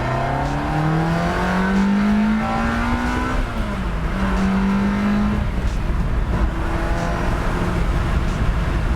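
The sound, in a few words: 2001 Ferrari 360 Spider engine accelerating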